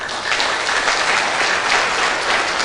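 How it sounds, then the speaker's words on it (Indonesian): Audience at a dharma talk on success in dharma and career applauds steadily, a dense even wash of clapping lasting the whole stretch with no voice over it. "Tepuk tangan dulu untuk kita semua."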